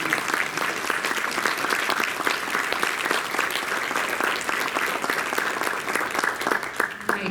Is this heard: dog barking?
no